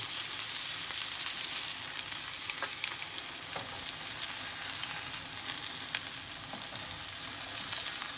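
Goose pieces sear in a hot pan with a constant, dense sizzle and scattered light crackles, close and even throughout.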